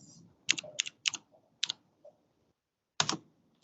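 Quick bursts of typing on a computer keyboard while entering a while loop in code, several clustered key clicks with short pauses, close and fairly quiet, no talk.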